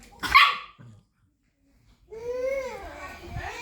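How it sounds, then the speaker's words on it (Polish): A single sharp dog bark up close, then a short silence before a voice starts talking. "szczeka piesiu na ciebie, tak?"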